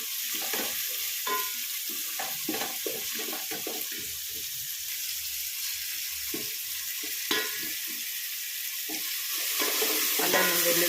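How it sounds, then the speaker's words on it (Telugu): Ginger garlic paste and onions stirred and frying in a pan as fish curry is prepared, a steady soft sizzle with repeated scraping stir strokes close by, growing slightly louder toward the end, no talking. "అల్లం వెల్లుల్లి పేస్ట్, ఆనియన్స్ అన్నీ ఇవన్నీ కొంచెం బాగా వేగే వరకు వేయించుకోవాలి"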